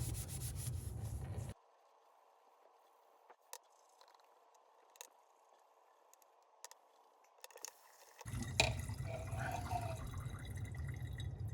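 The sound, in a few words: rubbing burnt plastic off golf clubs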